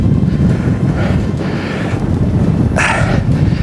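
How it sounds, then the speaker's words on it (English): Evening wind sweeps over the top of a desert sand dune in the Wahiba Sands, a loud constant rumbling buffet across the microphone with a brief gusty hiss near the end. "every time you are here during the evening time, there is wind"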